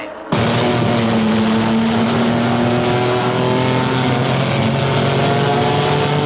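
Racing cars roar down a circuit straight, a loud continuous engine drone that bursts in abruptly and holds steady, its pitch climbing slowly as the cars accelerate, with no talk over it.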